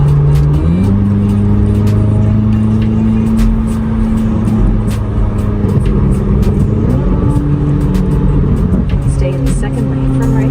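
A 2026 Corvette Z06 pulls hard on a straightaway, its loud engine tone climbing through rising pitch sweeps with shifts between gears, heard from inside the cabin.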